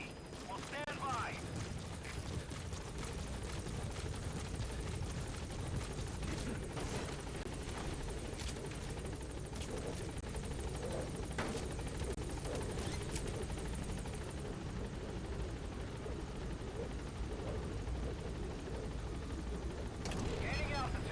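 The Pequod helicopter arrives at a landing zone in Metal Gear Solid V, its rotor a dense continuous roar with heavy low rumble throughout and sharp bursts of gunfire and impacts cutting through the mix.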